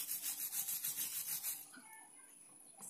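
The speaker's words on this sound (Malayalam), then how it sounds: "എന്നിട്ട് വയർ ബ്രഷ് കൊണ്ട് അതിനെ ക്ലീൻ ചെയ്യുക" A wire brush scrubs slag off a fresh straight-line downhand weld bead in quick, rhythmic back-and-forth strokes, close and fairly quiet, before stopping into near silence.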